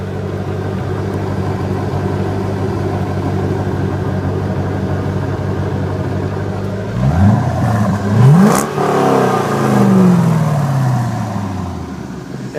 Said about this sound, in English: And I want you to hear the sound of this exhaust.